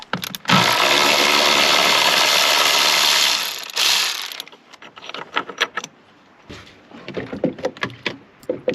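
Ratchet undoing the 13mm battery plate bolt on a MK5 Volkswagen Golf: about four seconds of loud continuous ratcheting close up, then a run of short, irregular clicks and turns.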